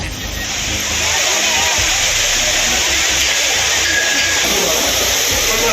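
Courtallam waterfall in Tamil Nadu, water rushing down in a loud, steady roar that fills the whole stretch without pause, close and constant.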